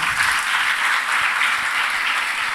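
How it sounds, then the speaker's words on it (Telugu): A large audience at a musical meditation gathering applauds for the guru, a dense, steady wash of many hands clapping together, loud and sustained throughout. "ఒకసారి గురుగారు గట్టిగా చప్పట్లు కొడదాం."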